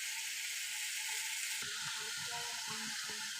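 Fried cauliflower pieces tipped into potatoes sizzling in a pan: a steady loud hiss of frying throughout, with a few soft stirring clatters joining partway through.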